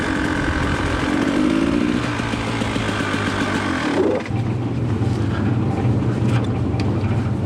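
A KTM EXC dirt bike with a shorty exhaust mod revs loudly and continuously up close, a raspy buzzing two-stroke-style drone that dips briefly midway before climbing back, with no talk.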